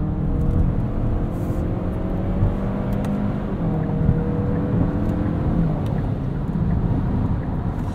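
A 2022 Kia Sorento X-Line SX Prestige droning steadily on the road, its engine note climbing slowly under constant road and wind noise, heard from inside the cabin with no talking.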